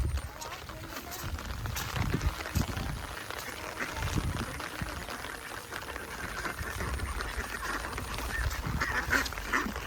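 Ducks quack and honk in a flooded village in rural Bangladesh, scattered calls rising over a low, busy outdoor background, with a person talking in the clip.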